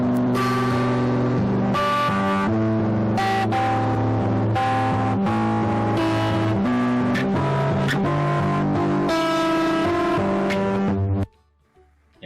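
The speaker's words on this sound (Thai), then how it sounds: "ดีดเส้นนี้ออกเป็นเบสเลยใช่ไหมครับเสียงต่ำมากแต่ข้างล่างนี้เสียงจะสูงนะครับ" Strings of differing thickness plucked in turn, from the thickest giving a deep bass note to the thinnest giving a high one, as a classroom demonstration; a run of close, ringing tones that ends abruptly into near silence.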